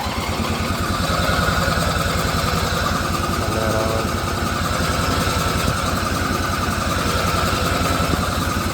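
A Husqvarna YTH20K46 riding mower engine runs steadily at close range with a continuous rapid mechanical chugging, loud and alone throughout.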